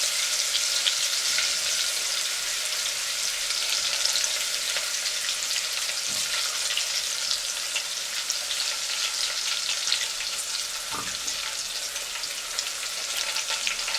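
Garlic fries in a pan until golden, an even, close, continuous crackling sizzle with a couple of faint clicks, no talking over it.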